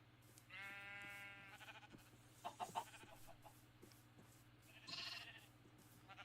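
Sheep bleat in Minecraft, a short run of two or three blocky, game-style bleats with a steady low hum underneath, plus a few brief clicks and a higher chirp near the end. Nobody speaks.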